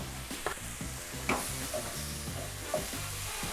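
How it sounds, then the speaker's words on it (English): Chopped cilantro stirred into a sizzling keto chicken stir fry, a steady soft frying hiss with a few scraping spatula strokes against the pan, close and fairly quiet, no talking. "I'm just gonna stir this in to the pan for a nice bit of freshness"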